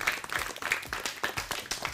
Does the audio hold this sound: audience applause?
yes